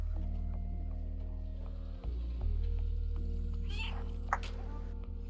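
A cat meows in the video game Stray, short tonal cries rising over a steady low game hum and ambient music, fairly faint and set back in the mix.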